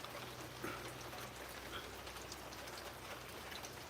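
Steady, faint rain pattering down outdoors in cool air while chicken grills, a continuous soft hiss of drops with no voices.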